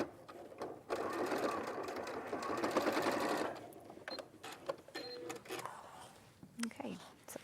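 A sewing machine stitches pleats into fabric in short, uneven bursts: one long whirring run, then several brief stop-start stitches, close by and fairly loud.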